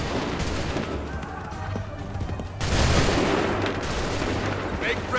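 Musket volleys in Assassin's Creed 3, with a loud, close burst of massed gunfire breaking out midway amid battlefield noise and shouted commands.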